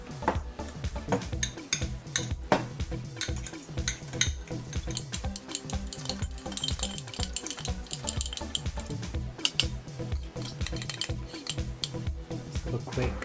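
Guacamole being mashed with crushed chilies and salt, a steady run of soft squelching and scraping strokes against a bowl, close and continuous with clinking utensil taps throughout.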